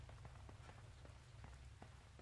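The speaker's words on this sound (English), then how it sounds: "Raining?" Rain falls steadily in the video game Echo, a dense soft patter broken by scattered sharper drop taps, with no voices.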